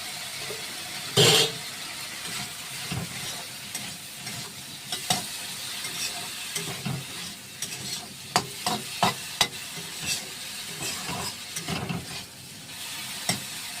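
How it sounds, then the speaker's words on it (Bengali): Spice masala frying in a pan is stirred with a spatula, producing a constant sizzle under irregular scraping strokes and sharp clacks, one loud burst early on, with no voices. "ভালো করে মশলা যাতে মেশানো হয়, খেতে ভালো লাগে, ভালো করে নাড়াচাড়া করে।"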